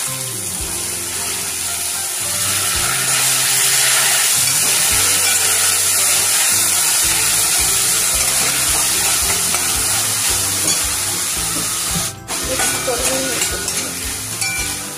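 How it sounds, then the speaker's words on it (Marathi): Sprouted moth beans (matki) hit a hot pan for masala matki fry, bringing a loud, steady sizzle with scraping stirs throughout and a brief sharp clack near the end. "त्यात आपण हे मोड आलेली मटकी घालूया।"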